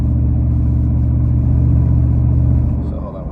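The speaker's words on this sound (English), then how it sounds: "You guys can even hear the engine, and then so I'm just holding the gas" A truck engine fitted with a throttle controller runs with the gas held steady, giving a loud, close, continuous low rumble that eases off near the end, with a voice talking over it.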